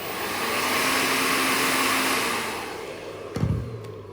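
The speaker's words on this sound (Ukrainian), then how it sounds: "Так от, беремо фен." A hair dryer gives a steady, loud blowing whoosh for about three seconds, heating an old phone, then cuts off with a brief clunk and a couple of small knocks.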